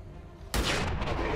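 Gunfire in the XCOM 2 video game: after a brief quiet stretch, a sudden loud shot bursts in and its rumbling blast and echo fill the rest of the moment.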